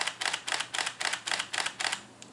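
Camera shutter in continuous high-speed mode firing a rapid burst of about seven frames at a steady rhythm of roughly three per second, crisp and close with no talk, then stopping.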